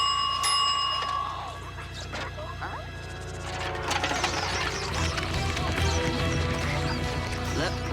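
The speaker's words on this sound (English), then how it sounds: "I'm sure I can synthesize a bell noise." An amplified synthesized bell rings in a bright, sharp tone early on. A louder, clattering mechanical crashing and rattling then builds up and continues to the end.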